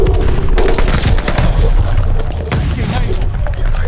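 A stun grenade bursts during a Call of Duty Vanguard Domination multiplayer match, loud blasts mixed with rapid gunfire crackling all around, dense and close with no pause.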